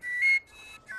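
A traditional Slovak whistle pipe plays bright, clear high notes, a sustained tone followed by a short break and then more piping, close and fairly loud.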